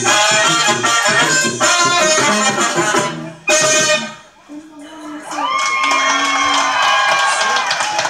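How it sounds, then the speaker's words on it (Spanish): A crowd cheering and whooping at a quinceañera celebration in Pichataro, loud and lively with music-like tones, briefly dipping before cheering swells again; people talk over it. "fuerte, fuerte el aplauso"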